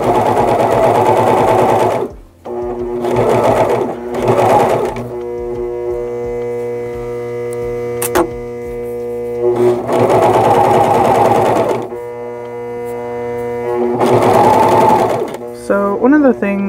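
A serger overlocker sewing fabric for a dress whirs in several loud bursts of a few seconds each, separated by short pauses, with a steady hum underneath.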